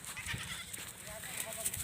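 A she-goat bleats in a farmyard setting, a short call that rises up briefly through nearby human talk.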